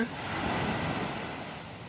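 Evening sea waves wash onto a beach in a steady broadband rush, close and continuous, mixed with some wind noise and no voices.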